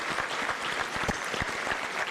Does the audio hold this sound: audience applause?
yes